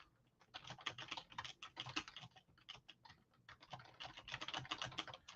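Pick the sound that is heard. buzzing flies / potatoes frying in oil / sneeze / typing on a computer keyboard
typing on a computer keyboard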